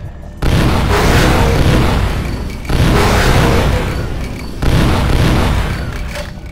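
Gunshots fire in the vampire role-playing game Vampire: The Masquerade – Bloodlines. There are three heavy, booming blasts about two seconds apart, each with a long roaring tail, loud and alone.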